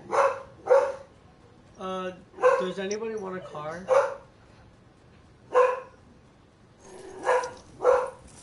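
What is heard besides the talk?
dog barking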